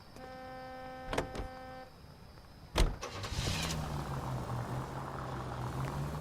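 A car in the video game L.A. Noire starts up with a sharp mechanical click, then its engine rises into a steady hum as it drives off, after an earlier stretch of tonal electrical whine.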